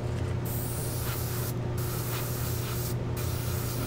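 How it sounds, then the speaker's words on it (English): An airbrush sprays Black 2.0 paint in a steady, close hiss, broken by three brief pauses. "It already feels like it's starting to clog up my airbrush."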